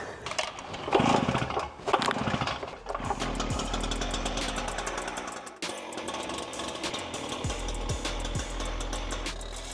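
A petrol-engined power tool, started on choke, cuts through the floor of a VW Caddy van; a loud engine roar with harsh buzzing and shifting load runs continuously, dipping briefly midway before picking back up.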